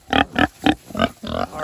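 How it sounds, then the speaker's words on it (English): Pigs and piglets on a farm grunt and squeal in five or six loud, close bursts at a quick, fairly regular rhythm, ending in a longer drawn-out squeal. "we will put all these pigs together, piglets together"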